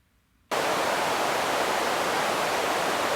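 White noise run through a bandpass filter in Ableton Live switches on suddenly after a short silence, then holds as a steady, loud, airy hiss that does not change.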